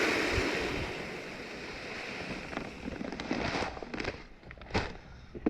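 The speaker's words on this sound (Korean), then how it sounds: "유박을 뿌려 보겠습니다 퇴비 뿌릴 때처럼 이제 쓰레받기에다가 부어서 골고루 뿌려주시면 됩니다" Oil cake fertilizer pellets scattered from a dustpan across garden soil give a soft, continuous gritty patter with a few sharper bursts near the end, heard outdoors with light wind.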